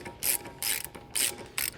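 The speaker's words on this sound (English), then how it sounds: "you always want to put the axle nut on hand tight first and then torque it to specifications." Four crisp ratcheting bursts from a wrench turning an axle nut on an Audi B8 S4, evenly spaced clicking runs separated by short pauses, close and clear with no voices.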